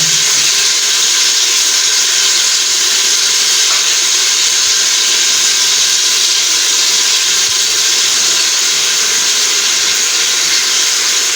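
Masala with green chillies fries in hot oil for an aloo pulao, a loud, continuous hissing sizzle that holds steady throughout with no speech.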